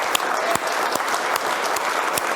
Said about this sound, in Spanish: Vamos a dar un aplauso al Eterno por cada mujercita.